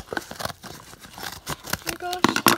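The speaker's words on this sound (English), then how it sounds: "I got my scissors. I'm gonna cut it open." A few sharp snips of scissors cutting open a mailed package of Littlest Pet Shop toys, with crinkling plastic, mixed in among a person talking nearby.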